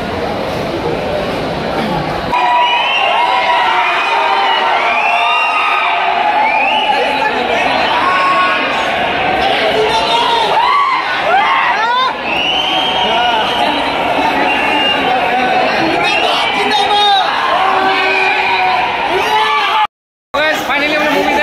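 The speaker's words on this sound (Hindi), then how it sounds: "काफी भीड़ है." Dense crowd of moviegoers inside an Inox cinema hall for a Pathaan screening, loud continuous cheering, whooping and shouting that swells and surges, with voices chattering throughout and a brief dropout near the end.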